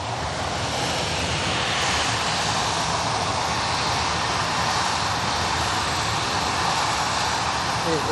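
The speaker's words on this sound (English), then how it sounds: "It is the Embraer." An Embraer jet at Bristol Airport gives a steady, loud, broadband engine roar with a whooshing, windy texture that holds level for several seconds, with no talking heard.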